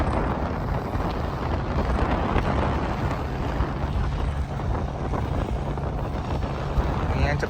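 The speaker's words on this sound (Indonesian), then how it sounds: "ini anginnya cukup kenceng banget di tengah sawah" Strong wind blows across a rice field in Japan where rice is being planted, giving a loud continuous roar and buffeting on the microphone throughout, with talk partly buried under it.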